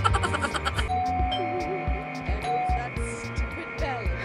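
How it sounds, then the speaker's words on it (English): A doorbell chimes in the Scary Teacher mobile game, a bright electronic ding-dong among busy game sound effects and background music, with someone talking over it. "Doorbell na tayo ulit."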